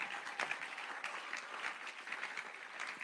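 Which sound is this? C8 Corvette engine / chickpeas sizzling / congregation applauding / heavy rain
congregation applauding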